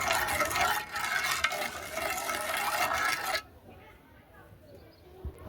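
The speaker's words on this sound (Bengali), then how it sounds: "সব কিছু আগে আমি এই কড়াইয়ের মধ্যে মিক্সড করে নিচ্ছি" A spoon stirs a cold orange agar pudding mixture with Tang in a wok, a busy scraping rattle for about three seconds that then stops, leaving quiet room tone.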